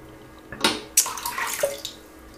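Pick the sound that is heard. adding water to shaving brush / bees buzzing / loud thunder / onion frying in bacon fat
adding water to shaving brush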